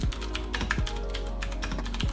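Ducky One 2 SF mechanical keyboard with blue switches being typed on, a steady run of crisp, clicky keystrokes at a brisk, slightly uneven pace, close and clear.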